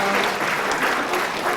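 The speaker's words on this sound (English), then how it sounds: "so give them another round of applause." Audience at a Swan Valley community band Christmas concert applauds, a dense steady clatter of many hands close by, filling the whole moment.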